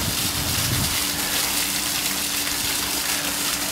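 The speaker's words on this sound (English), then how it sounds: "the water you hear there is the water mill here" Steady rushing water at an eleventh-century Norman water mill. It is a loud, dense, continuous gush with no break and no voices.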